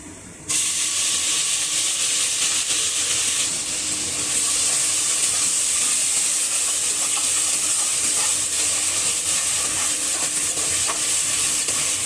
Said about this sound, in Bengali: এখানে আমি পেঁয়াজ, রসুন, এলাচি, দারচিনি, তেজপাতা ও কিছু আস্ত জিরা দিয়ে নিয়েছি। একটু ভালো করে ভেজে আমি দিয়ে দিব আদা রসুন বাটা।